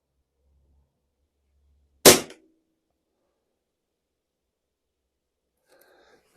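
A single sharp shot from a Stoeger XM1 PCP air rifle charged to about 150 bar, loud and close, with a quick crack and short decay, then near silence apart from faint handling noise at the end.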